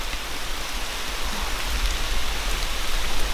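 Rain falling during an elk hunt outdoors, a steady broadband hiss of drops pattering on surfaces, close and continuous for the whole stretch, with no voices.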